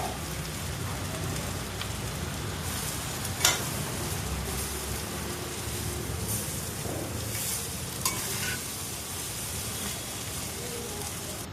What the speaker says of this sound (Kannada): ಅನ್ನನ ಹಾಕಿ ಒಂದು ಸರಿ ಮಿಕ್ಸ್ ಮಾಡ್ಕೊತೀನಿ.